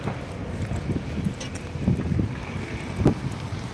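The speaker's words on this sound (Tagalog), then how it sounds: "Malakas na ang hangin dito sa baba eh." Strong wind blows outdoors in a small city, a continuous rough buffeting roar across the microphone with irregular gusts and no voices.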